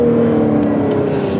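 A Ferrari 812 Superfast Novitec with an aftermarket exhaust, its engine giving a loud, sustained tonal drone close by, with a steady low rumble and no voices.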